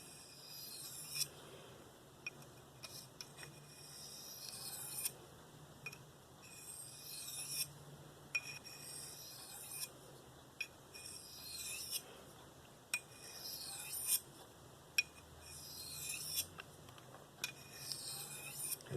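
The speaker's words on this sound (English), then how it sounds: "I'm going to be using very, very light pressure, just trying to clean up that edge, trying to get any burr or fragments left on there off" Light strokes of a Spyderco Paramilitary 2 blade in S30V steel drawn across a DMT Diafold ceramic stone, a soft rhythmic rasping repeated in even passes roughly every one to two seconds, close and quiet with no talk.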